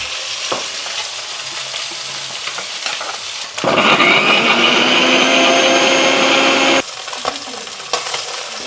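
Pieces of katla fish fry in hot oil, a constant low crackle that surges into a loud, dense sizzle for about three seconds before settling back.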